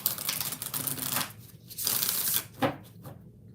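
Tarot cards are shuffled by hand in quick riffling bursts, close and crisp, with brief pauses between flurries and no talking.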